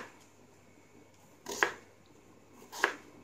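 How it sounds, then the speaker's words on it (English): A knife cuts through half an onion in two crisp, separate chops about a second apart, close and moderately loud over a quiet kitchen background. "Now, you have to cut half of an onion like this."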